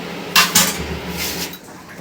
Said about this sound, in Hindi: आगे धोने लगी बर्तन